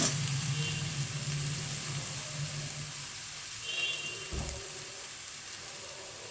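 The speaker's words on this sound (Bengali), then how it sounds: "আমি মশলাটা কিছুক্ষণ কষিয়ে নিয়েছি। আদা রসুনের কাঁচা গন্ধটাও চলে গেছে আর মশলার গা থেকে তেল ছেড়ে দিয়েছে" Ginger-garlic masala paste sizzles steadily in hot oil, a soft broadband crackle that holds for several seconds with faint stirring and clinks and no voices.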